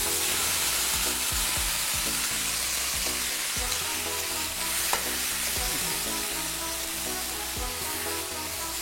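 Teasel gourd filling fries in an oil-filled pan with a continuous sizzle, and a spoon scrapes and stirs it in repeated strokes. The sound is close and steady, with no talking.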